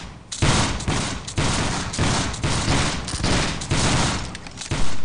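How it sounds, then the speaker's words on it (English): Musket volleys from a company firing by file in a line-infantry video game, a rapid rolling chain of loud, close shots cracking one after another for the whole stretch. "Company fire by file from the right."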